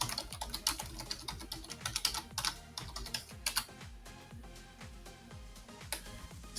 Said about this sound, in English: I'm going to type sudo